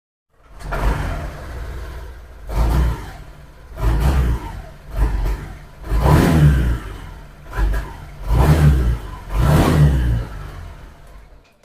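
Honda PCX 150 scooter engine with a suspected faulty throttle position sensor, revved hard to full throttle in six or seven loud, close bursts, each rising and falling with brief idle dips between, no talking.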